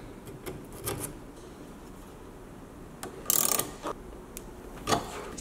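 A screw-type flaring tool is turned on a new brake line for a lifted minivan, giving soft creaks and scrapes, one louder grinding burst and a few sharp clicks, close up and with no talking.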